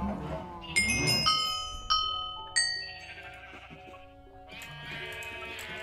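Blocky sheep bleat in the game Minecraft during a Bedwars match, several short loud wavering bleats in quick succession mixed with chiming game tones and dings.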